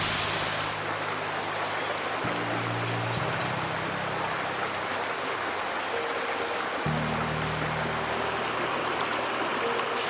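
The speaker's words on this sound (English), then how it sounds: "so we can also record some audio from the waterfall." Steady broadband rush of falling water, constant and enveloping, with faint low tonal hums drifting in and out beneath it.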